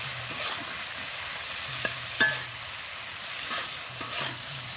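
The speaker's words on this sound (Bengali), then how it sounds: "পরিমাণ মতো হলুদ, দিয়ে নাড়িয়ে আমি ভালো করে কষিয়ে নেব।" Vegetables stir-fry with turmeric and salt in a pan, a soft sizzle under rhythmic spatula scrapes and a few sharp metallic clinks, close and fairly quiet.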